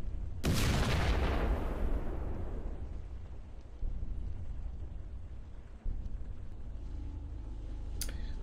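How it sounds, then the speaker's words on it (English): A huge explosion in the survival video game Cataclysm DDA, a loud broadband blast that bursts out near the start and then rumbles and decays over several seconds, leaving a low steady roar with a brief thump later on. "So, the huge explosion just happened."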